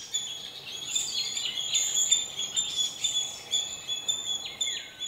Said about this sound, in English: the chirping of birds all around